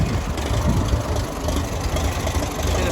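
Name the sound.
Ferguson TE20 tractor engine running with PTO working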